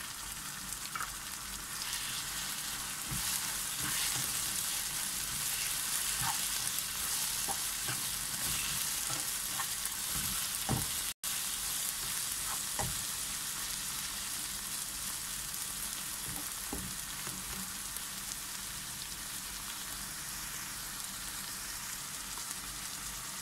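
Tomatoes fry in a pan with a constant, even sizzle and crackle throughout, scattered small pops rising here and there over the steady hiss.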